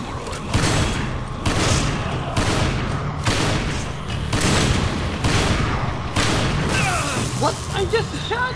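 Gunfire in Resident Evil 5, loud repeated blasts and booms in bursts roughly every second, dense and close, with game voices mixed in.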